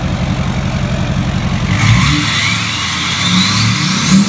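A Corvette Z06 engine runs close and loud with a throbbing, lumpy idle that rises into a rev and holds a strong, steady roar, with no talking.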